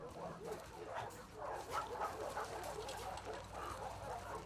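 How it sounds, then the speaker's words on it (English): Dogs in the WLF dog kennel of The Last of Us Part 2 bark, yip and whimper in a steady stream, fairly close, over low game background noise. "We got dogs."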